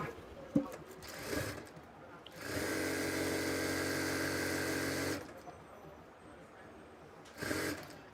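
A sewing machine runs a steady whirring stitch for about three seconds as it sews the side seam of palazzo pants, with brief handling noises before and after.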